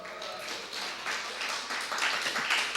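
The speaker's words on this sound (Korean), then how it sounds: "박수." A church congregation claps together in a short, dense burst of applause, fairly close and lasting a few seconds.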